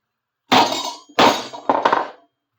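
A hand punch tool snapping through a mask to make two holes at once, three sharp, loud cracking impacts in quick succession, each with a brief clattering tail, with no voices.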